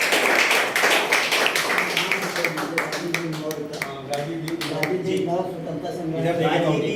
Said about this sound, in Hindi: आपकी उपस्थिति के लिए एक बार जोरदार तालियां बजाइए।